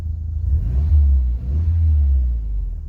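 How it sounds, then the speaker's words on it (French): Renault Mégane RS engine idling and revving gently from inside the cabin, a warmed-up engine given light throttle: steady deep rumble rising and falling over three seconds, close and fairly loud, with no talking. "Donc je l'ai fait chauffer un petit peu avant, je force pas trop."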